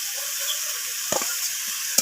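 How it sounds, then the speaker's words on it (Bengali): Fried potatoes sizzle in a pan as they are stir-fried with ginger paste, a steady hissing sizzle with a couple of quick spatula knocks against the metal, close and even. "তো আলুগুলোকেও কষিয়ে নিচ্ছি।"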